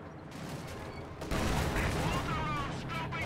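MG42 machine gun and mortar fire from Company of Heroes 2 pour out as a dense, continuous rattle of gunfire, growing louder partway through, with a voice talking over it.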